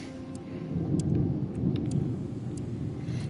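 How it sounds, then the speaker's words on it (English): Thunder rumbles low and heavy during a nasty storm outside, a rolling swell that rises and falls beneath steady rain, muffled and distant-sounding. "You guys might even be able to hear the thunder."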